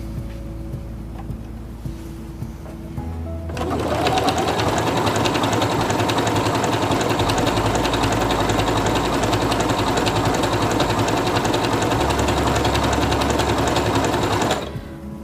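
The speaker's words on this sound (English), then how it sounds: "I'm going to stitch out the way it is right now." Singer Quantum Stylist 9960 sewing machine starting up and stitching steadily for about eleven seconds with a fast, even mechanical whir, then stopping abruptly.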